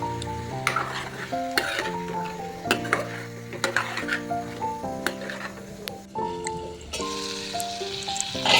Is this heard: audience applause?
no